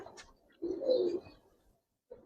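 Giribaz pigeons on a rooftop give one soft, rolling coo lasting about half a second, close by, with a fainter murmur before and after and no talking.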